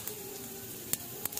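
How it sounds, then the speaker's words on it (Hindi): Cumin seeds tempering in hot oil for an Indian home-cooked dish, giving a faint, steady sizzle with a few sharp crackles and pops near the end. "अब मैं तड़का लगा रही हूँ जीरे से"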